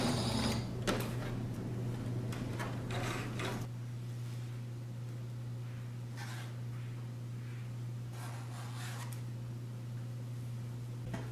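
A sewing machine backstitches a pillow seam made from a tablecloth, with a steady mechanical whir and rapid stitching bursts at the start. After that it drops to a lower continuous hum with a few fainter clicks, and no voices are heard.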